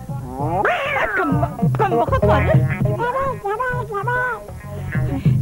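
A human voice imitating two cats fighting in a garden at night, loud yowling and screeching calls rising and falling in quick succession, close and alone.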